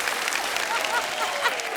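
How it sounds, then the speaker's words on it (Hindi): Studio audience at a comedy talk show breaks into dense, steady applause, close and full, continuing without pause. "जोरदार ताली हो जाए यार"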